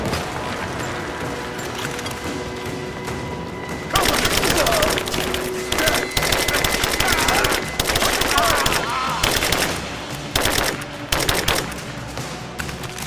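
Gunfire in the video game Rise of the Tomb Raider: rapid automatic bursts with sharp repeated reports over a droning background, arriving in several clustered volleys, close and loud, with game voices mixed in.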